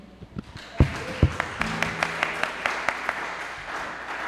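Church congregation clapping during a live worship service, starting with a few loud isolated claps and then settling into a rhythmic, evenly spaced series of claps, moderately close in a reverberant hall.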